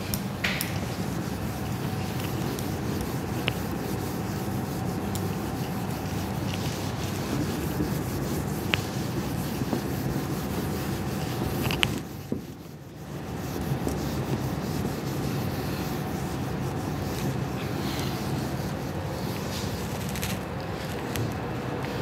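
A steady scrubbing rub runs almost nonstop as a teacher wipes writing off a classroom board, with one short pause partway through and no voices.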